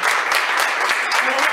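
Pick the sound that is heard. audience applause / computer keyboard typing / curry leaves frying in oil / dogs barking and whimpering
audience applause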